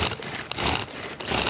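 A lawnmower pressed into service as a makeshift food processor, chopping vegetables into coleslaw, gives a loud, continuous grinding and shredding roar with brief dips and surges, close to the microphone and with no talk over it.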